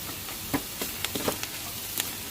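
Softened onions and ginger-garlic paste fry in a pan for potato aloo sagu, giving a soft, steady sizzle with a few light stirring taps and scrapes close by.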